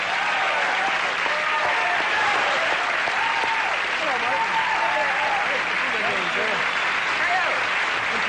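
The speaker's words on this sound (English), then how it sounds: "And now, would you give a round of applause?" A studio audience at a David Letterman tribute breaks into sustained, dense applause that holds at an even, loud level throughout, with scattered voices mixed into the crowd noise.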